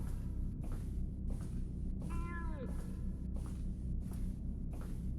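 A single cat meows once, a short rising-falling call, faint and distant against steady outdoor background noise.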